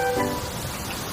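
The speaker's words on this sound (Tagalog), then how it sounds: "Uy Ken, ang sarap maligo sa ulan oh." Rain falls outdoors while people bathe in it, a steady, loud, close hiss of downpour with no voices.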